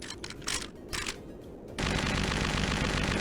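An assault rifle in a video game fires a few sharp shots, then breaks into a dense, loud sustained burst of automatic fire that carries to the end.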